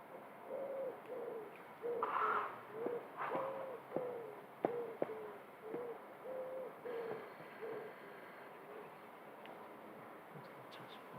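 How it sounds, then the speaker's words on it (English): Pigeons coo near an airport, a repeated soft three-note hooting call sounding about a dozen times in a steady rhythm, fairly close and alone against quiet background. "What are them pigeons saying? Ooh, ooh, ooh. It's the same noise every time."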